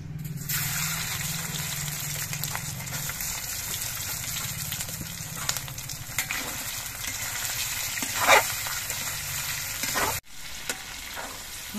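Cornflour-coated chicken pieces fry in hot oil in a wok, a loud, steady sizzle and crackle running throughout with occasional sharper spits and a brief dip near the end.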